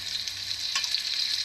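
Stuffed tomatoes sizzle in a pan of well-fried onions, giving a steady, close crackling hiss with no talk.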